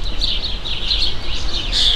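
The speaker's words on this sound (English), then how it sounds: "Ito naman is mga birds." Small birds chirp and tweet in repeated bright calls at a German zoo, over a steady low background rumble, with no talking.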